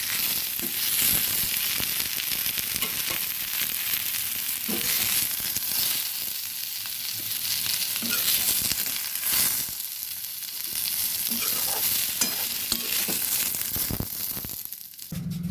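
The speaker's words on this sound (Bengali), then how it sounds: "চিচিঙ্গা ভাজা কড়াইটার মধ্যে দিয়ে দিচ্ছি জিরে আর তেজপাতা" Cumin seeds and bay leaves sizzling in hot oil in a wok after fried snake gourd is removed, with a steady loud frying hiss, occasional stirring scrapes, and no talking.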